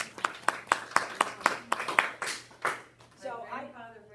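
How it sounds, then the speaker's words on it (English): A few people clap in a steady, evenly spaced rhythm for about two and a half seconds at a quilting talk, the claps fairly close and crisp, before a voice begins speaking over the fading end. "That deserves a applause."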